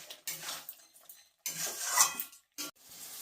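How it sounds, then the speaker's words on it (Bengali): Fried potato and pointed gourd pieces tumble into a metal pan, with several bursts of clattering and scraping utensil sounds separated by short silences. "আমি আলু আর পটল ভাজাটা এবার দিয়ে দিচ্ছি"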